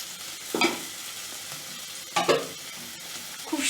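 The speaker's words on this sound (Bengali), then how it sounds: "এখন আমি মাংসটা ঢেলে দিব।" Mutton in mustard-oil masala sizzling and being stirred in a hot pan, a steady close hiss with two or three louder scraping stirs and no talk.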